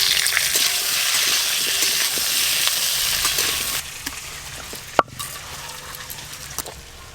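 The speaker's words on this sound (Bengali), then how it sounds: "কাঁচা টমেটোগুলো ভেজে নেব।" Raw tomatoes fry in hot oil with a loud, dense sizzle that drops to a quieter crackle partway through, broken by one sharp knock.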